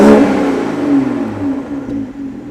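A Supra engine revs up loudly and then drops to a steady, rumbling idle with a few smaller throttle blips, close by and without any talking.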